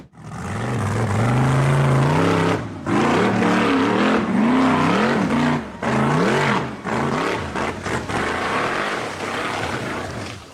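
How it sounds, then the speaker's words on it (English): A red and black off-road vehicle's engine roars loud and strained as it climbs a steep rocky hill, revving in rising and falling surges with brief drops in power, close and continuous for about ten seconds. "The red and black off-road vehicle roared as it strained to climb the treacherous rocky hill."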